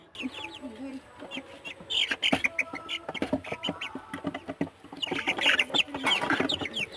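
Chickens clucking and calling at feeding time on a home farm, several birds close by with irregular bursts of clucks and squawks over faint background noise.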